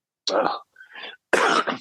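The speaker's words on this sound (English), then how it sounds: "My cough is a little productive today." A few harsh, wet, productive coughs or throat-clearing bursts, close and fairly loud, in three quick clusters with short pauses between.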